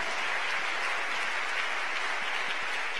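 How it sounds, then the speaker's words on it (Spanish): A church congregation applauds during a sermon, a steady, dense wash of clapping that holds evenly for the full stretch with no voices over it. "Démosle palmas a ese Cristo de gloria."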